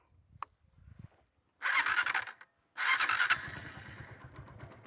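A motorcycle engine cranks with two loud revving bursts close by, then settles into a steady idle.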